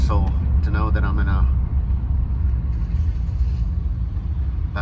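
Street traffic near a marina in San Carlos, Mexico gives a continuous low engine rumble of passing vehicles, with someone speaking briefly over it at the start.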